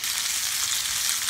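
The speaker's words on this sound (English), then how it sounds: "That is the sound of the hot oil." Chicken searing in hot oil in a stainless steel skillet, giving a loud, steady, close sizzle and crackle of frying with no voices over it.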